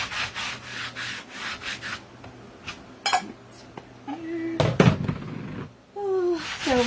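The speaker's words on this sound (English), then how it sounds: "I'm just putting a little glob on, spreading it around" Glitter chalk paste spread across a stretched canvas, uneven scraping and rubbing strokes in short bursts, close and moderately loud, with a few sharper taps and brief talking.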